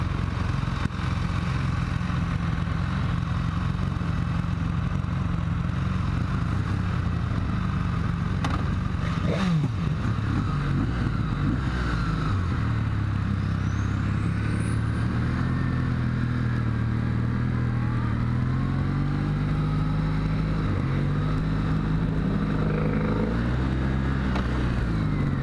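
A Kawasaki W800 motorcycle engine runs steadily through a test ride, its revs rising and falling with gear changes. The drone stays close and continuous for the whole stretch, with no talking.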